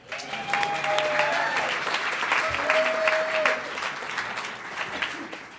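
An audience at an AA meeting in Los Angeles breaks into sustained applause welcoming a speaker, a steady wash of clapping that swells and then tapers off, with a few faint voices underneath.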